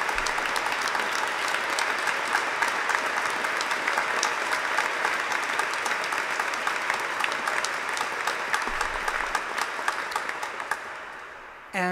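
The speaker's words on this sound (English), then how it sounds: "who deserves really quite a round of applause for this magnificent instrument" Sustained applause from a cathedral audience honoring the organ builder of a great pipe organ at its rededication, a dense, steady wash of many hands filling the reverberant nave for about twelve seconds before cutting off abruptly.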